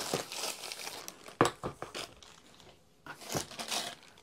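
Plastic bag crinkling and rustling as a P.I.T. PTR20H-380A cordless grass trimmer is taken out of its packaging, close and irregular with sharp crackly bursts and brief pauses.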